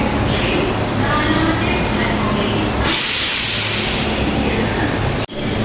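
Local train at an Indian railway station on a route to Kerala, a loud continuous rumble and hiss of rolling stock close by, with a brief hard clunk near the end.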